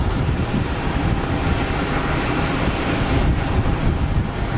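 An EasyJet airliner takes off from Geneva Airport bound for Amsterdam, its engines a steady, loud broadband roar that holds for the whole stretch without a break.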